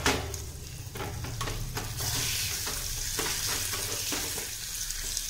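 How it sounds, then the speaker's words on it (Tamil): Green chili and lentils frying in oil over low heat, a continuous dense sizzle and crackle with frequent stirring scrapes, close and fairly loud throughout. "அனல் வந்து கம்மியாக வச்சியே நல்லா அதை பொறிச்சுக்கோங்க"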